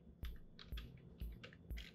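Four sharp key presses on a computer keyboard, evenly spaced about half a second apart, close and quiet in a still room, no talking.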